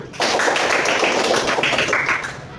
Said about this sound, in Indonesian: Selanjutnya kita beri aplaus dulu.